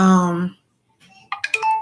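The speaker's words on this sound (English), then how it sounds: "my phone is um pinging off because I started a new Instagram" A smartphone gives off notification pings: a sustained tone, a pause, then a quick cluster of bright chimes, close and clear.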